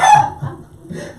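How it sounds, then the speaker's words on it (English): A brief, loud chicken and rooster sound effect: a sharp crowing cackle followed by a couple of short clucks, heard alone with no talk. "Sister Dobong got some chickens in the house"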